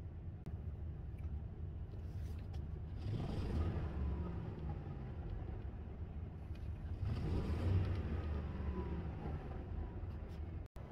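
A car engine runs steadily at a low idle, a continuous close rumble with two gentle swells where the revs rise briefly, ending with a sharp click.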